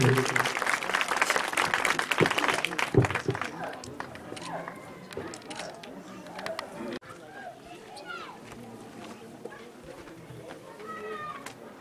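Audience applause at an award ceremony during a block-level school sports competition, a dense burst of clapping in the first few seconds that thins out, with cat-like cries and background chatter following.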